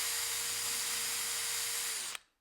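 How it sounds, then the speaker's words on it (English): A power drill whines steadily while driving screws into a door latch plate, then cuts off abruptly after about two seconds, leaving near silence. "let's put a couple of screws into this plate"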